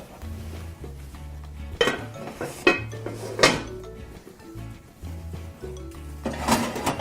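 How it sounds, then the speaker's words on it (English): A heavy lid comes off the pot holding a baking sourdough loaf, with several sharp metallic clanks and clinks of pot and lid spread over a few seconds, close and fairly loud against a low hum. "Just very gently take the lid off."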